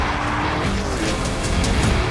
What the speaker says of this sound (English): I literally press the brake and the car halts